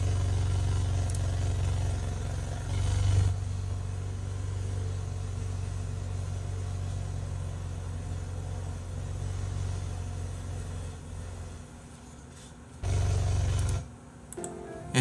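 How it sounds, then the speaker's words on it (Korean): A steady, low engine drone runs throughout, swelling briefly louder a couple of times before dropping off near the end. "엔진 소리가 나네."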